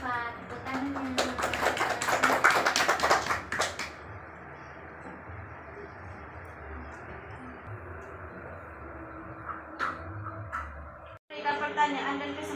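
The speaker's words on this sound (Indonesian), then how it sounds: "Tepuk tangannya." Students applauding in a classroom, a brisk burst of clapping lasting a few seconds, followed by quieter room noise and a voice speaking near the end.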